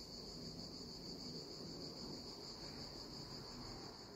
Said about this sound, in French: au fil de l'ambiance sonore et des cigales